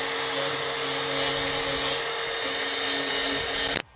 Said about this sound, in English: I like using this flap disc on a grinder and coming and